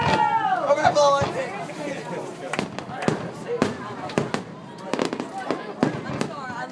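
Fourth of July fireworks at Fort Myers Beach, Florida, bursting in a rapid series of loud sharp cracks and pops with a whistling rise at the start, while people nearby chatter and exclaim.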